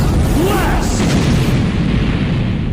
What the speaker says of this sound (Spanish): Shadow Zombot explota el refugio con la intención de infectar a todos